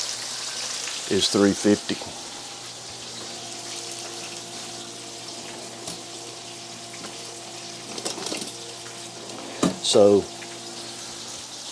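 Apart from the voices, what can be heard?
fish frying in a pan of hot oil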